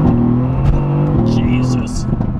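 A Mercedes-AMG GT C sports car launches hard under launch control, its engine roaring loud and close with rising revs throughout, as a voice talks over the acceleration.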